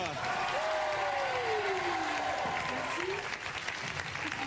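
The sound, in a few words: audience ovation and applause on a TV show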